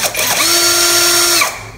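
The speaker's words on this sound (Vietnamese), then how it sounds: "Con máy khoan này của mình vẫn sử dụng bình thường nhưng mà" An electric drill with a fault that makes it run at full speed revs up and whines steadily at high pitch for about a second, then spins down, loud and close, with no talking.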